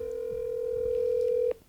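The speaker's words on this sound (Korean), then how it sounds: "저 지금 전화해볼게요" Telephone dial tone while a call is being placed for a news segment, one steady clear tone held for about a second and a half before it cuts off, with faint background sounds beneath.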